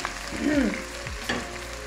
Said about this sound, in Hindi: अब इसको फ्राई करूँगी 2-3 मिनट के लिए।